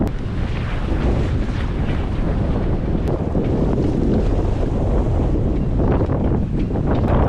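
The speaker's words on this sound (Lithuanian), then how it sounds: "kalbu iš arti, kad girdėtumėt, nes labai vėjas, 22 iki 25 mazgų." A strong wind of 22 to 25 knots roars across a sailboat, a loud, constant rush and buffeting against the microphone with the wash of water beneath it.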